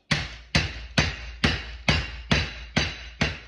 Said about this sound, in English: If you haven't got a meat hammer, use a pan base. I'm just going to batter this flat.